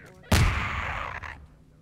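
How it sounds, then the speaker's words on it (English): An airstrike explosion in Garry's Mod hits as one sudden loud blast, followed by a rumbling, crackling decay that fades over about a second, with a fainter secondary crack partway through. "Airstrike!"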